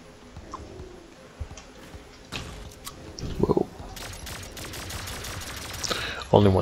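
Gunfire from a weapon in the Turbo Overkill first-person shooter crackles in quick bursts of sharp clicking shots, mostly moderate in level, with a louder volley near the end amid quiet game ambience.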